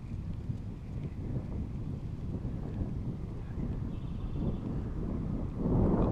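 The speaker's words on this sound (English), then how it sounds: "This wind is really picking up." Strong wind buffets outdoors during a spring fishing trip, a continuous low roaring rumble with gusts swelling louder toward the end.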